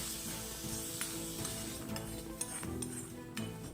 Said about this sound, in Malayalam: ഒരല്പം സവാള ആ ചട്ടിയിൽ തന്നെ ഇട്ട് ഒന്നുകൂടെ ഇളക്കി